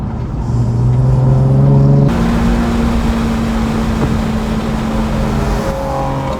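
A car accelerates past on a race track during a high-performance driving event: a loud, close engine roar climbs in pitch, drops as it shifts, then holds a steady drone, with no talk.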